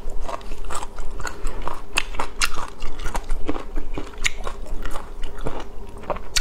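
Crisp, crunchy bites during a mukbang of salmon roe rice bowl with tobiko and caviar, with wasabi-style horseradish nearby: rapid close-up crackling chews and bites repeating steadily throughout, loud and without talking.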